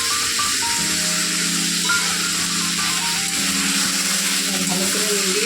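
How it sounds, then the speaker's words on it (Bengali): Potatoes seasoned with turmeric and salt fry in a pan, giving a steady, close sizzle that runs through the whole stretch with a faint tonal hum underneath. "আলুটা এভাবে সুন্দর করে লাল করে ভাজবো"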